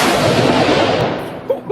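A shotgun fired at an outdoor shooting range, one loud close blast with a long decaying roar, followed by faint small knocks.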